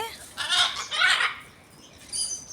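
Harsh, squawking macaw calls ring out in two close bursts, then a fainter third call after a short pause.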